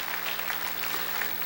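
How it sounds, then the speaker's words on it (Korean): Brief burst of congregation clapping welcoming visitors at a Sunday church worship service, steady and dense, with a low hum underneath. "박수 한번 하겠습니다"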